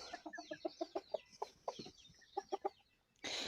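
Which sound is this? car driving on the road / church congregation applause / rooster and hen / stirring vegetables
rooster and hen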